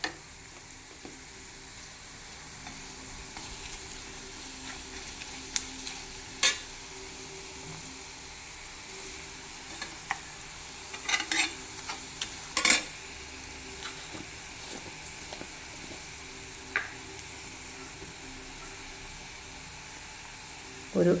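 Kashmiri chilli powder frying in a pan for a fish pickle, a soft continuous sizzle broken by scattered sharp scrapes and clinks of a spoon stirring against the metal, close and fairly quiet.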